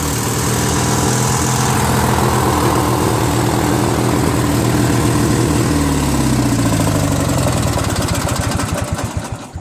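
A Briggs & Stratton 16HP opposed twin small engine, recovered from the trash after a stuck valve was freed, runs steadily and loudly up close with an even, throbbing idle that drops slightly at the end.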